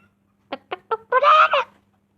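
Three short clucks in quick succession, then a longer, louder squawking burst from a chicken in a video game, close and clear with no talking.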